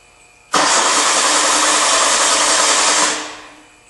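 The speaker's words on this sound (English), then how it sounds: "we're going to go around and we're going to crank the engine" A car engine with no injector pulse is cranked during a no-start diagnosis, a loud, steady, close whir of the starter that begins abruptly and stops after about two and a half seconds without catching.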